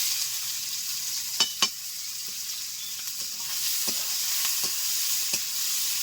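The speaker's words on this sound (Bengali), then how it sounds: "তেল গরম হয়ে গেছে দিয়ে দিচ্ছি কালো জিরে তিনটে পেঁয়াজ মিডিয়াম সাইজের কুচি কুচি করে কেটে নিয়েছি দিয়ে দিলাম" Chopped onions and nigella seeds sizzle steadily in hot oil, a broad continuous hiss with a few sharp clicks and spatula scrapes scattered through, close and fairly loud, with no talking.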